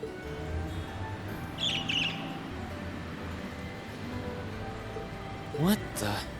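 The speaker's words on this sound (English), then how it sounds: "A bird?" A bird chirps and calls briefly in a Legend of Heroes: Trails of Cold Steel game scene, a short trilled twitter followed later by a quick rising call, heard over low ambient game music.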